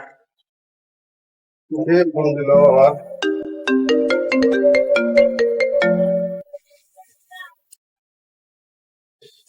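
A mobile phone rings with a melodic electronic ringtone while calling a fridge repair mechanic; the bright tune plays clearly for about four and a half seconds, then gives way to a few faint sounds.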